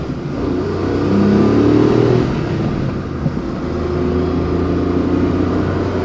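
An older Suzuki Works kei car with a manual gearbox accelerates hard, its engine droning loud and close and rising through a rev before a gear change, then pulling steadily again.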